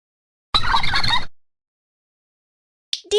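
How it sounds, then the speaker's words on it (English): A turkey gobbles once in a short, loud, rattling burst lasting under a second, followed by silence and the faint start of another call at the very end. "turkey."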